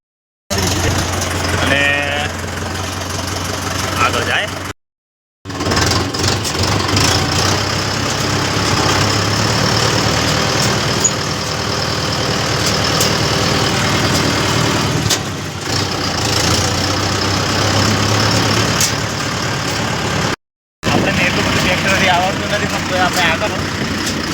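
A heavy tractor engine idles steadily with a low rumble throughout, while people talk nearby; a couple of brief silent gaps interrupt it.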